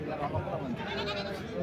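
Sheep bleat at a busy livestock market, short wavering calls mixed into close conversation and crowd chatter.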